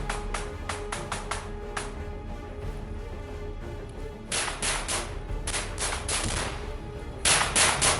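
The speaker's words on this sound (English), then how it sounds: "Both sides exchange intense fire." Intense gunfire in combat: bursts of sharp, rapid shots crack close and loud in uneven clusters, with short pauses between the volleys.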